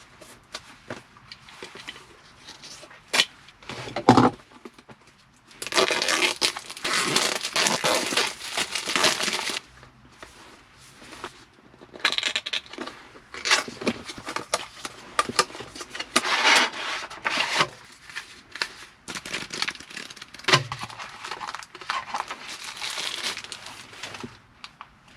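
Packaging of an Anker ROAV SmartCharger F2 FM transmitter is opened by hand, with close crinkling, rubbing and tearing in irregular bursts separated by short pauses.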